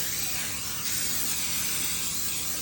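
An aerosol can of cooking spray sprays onto a pan in one continuous, close hiss lasting a couple of seconds, with a slight change in pressure partway through.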